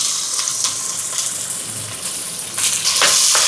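Onions, fennel seeds, curry leaves, dried red chillies and green chillies sauté in a hot pan for a vegetarian lunch, giving a steady, close broadband sizzle that swells louder toward the end, with no talking.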